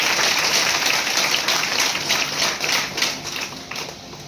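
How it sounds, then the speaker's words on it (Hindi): Loud applause from a spiritual society gathering welcoming its founder, a dense, rain-like patter of many hands clapping, steady and strong before easing slightly toward the end, with no voices on top. "संस्थापक पितामह ब्रह्मर्षि पत्री जी के लिए जोरदार तालियां बजाते हैं।"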